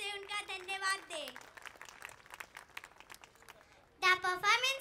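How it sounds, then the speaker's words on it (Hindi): An audience at St Mary's School, Baijalpur annual day celebration claps in a burst of applause between stretches of singing children's voices, the clapping mid-distance and partly under the vocals. "तालियों से उनका धन्यवाद दें।"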